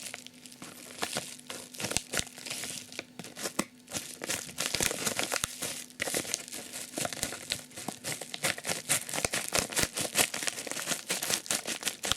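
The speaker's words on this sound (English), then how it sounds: "Do a little cut test." A Spyderco Cliptool blade runs through a cut test, producing continuous crisp crinkling and rapid tearing crackles over about twelve seconds, close and moderately quiet, with no talking.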